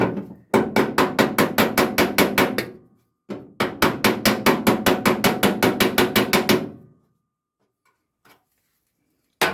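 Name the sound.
hammering to flatten Ford Escort bulkhead metal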